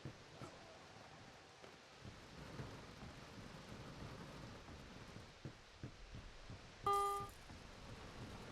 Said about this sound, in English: Thank God it's not acid rain.